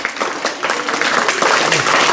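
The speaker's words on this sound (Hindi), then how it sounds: "ताली होती रहे तब तक। शाबाश से।" Loud, sustained applause from a school crowd at a student election ceremony, dense continuous clapping that holds steady for over two seconds without talking.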